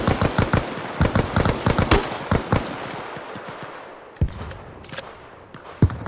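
Bursts of automatic rifle fire in Arma Reforger, a tight cluster of loud close shots in the opening seconds, then scattered single reports further apart, with a faint rumble between them.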